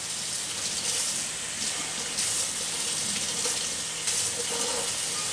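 Warm tap water runs steadily into a container, a continuous splashing hiss at close range with no talking.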